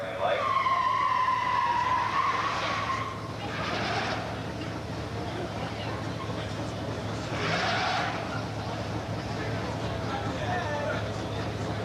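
Dan Jensen's muscle car with a 455 High Output engine does a smoky burnout in the right-hand lane at a 1985 Beech Bend drag race, tires roaring and squealing in a loud, steady, broad wash with swells, while an announcer talks over it.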